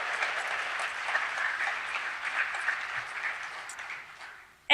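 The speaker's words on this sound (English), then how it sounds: "If we could give them a round of applause." Audience at an annual community meeting applauds a jazz band with steady, moderately loud clapping from many hands that fades out near the end.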